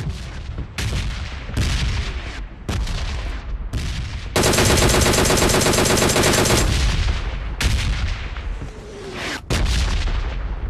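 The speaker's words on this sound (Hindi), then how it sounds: "क्योंकि इधर गन साउंड आ रहे थे" Repeated gunfire from a mobile battle royale shooting game, loud bursts of single shots alternating with a long sustained automatic volley in the middle, with no voices.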